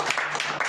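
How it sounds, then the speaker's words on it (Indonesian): A church congregation claps hands during an Ascension Day worship service, a dense broadband patter of many hands filling the whole short moment at steady loudness. "beri tepuk tangan buat Tuhan Yesus"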